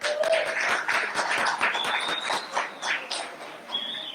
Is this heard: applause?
yes